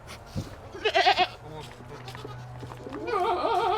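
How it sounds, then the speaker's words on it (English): A male goat bleats in two wavering, nasal bursts while courting a female goat, loud and close, with a low rumbling and snort-like sounds between the calls. "that is how a handsome male goat courts a beautiful female goat by spitting and going."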